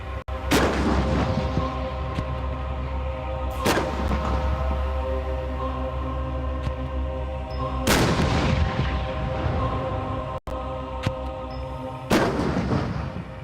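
Tank main guns fire at a firing range, with about four heavy booms spaced a few seconds apart, each a sharp loud blast trailing into a long rumbling decay over a steady low engine drone.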